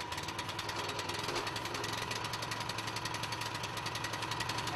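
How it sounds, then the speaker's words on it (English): An Edco CPM-8 walk-behind scarifier running at full throttle, giving a fast, even, rapid-fire hammering clatter with an engine drone underneath, close and steady. "When the engine starts, open the throttle and allow the engine to reach full speed"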